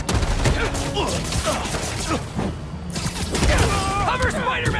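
Gunfire volleys crackle through a chaotic Spider-Man 2 video game fight, with bursts of shots mixed with mechanical clatter and shouted game dialogue throughout.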